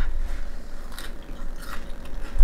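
Crunchy beef tallow cracklings being bitten and chewed up close, a few crisp crackling crunches over a quiet background, with no talking.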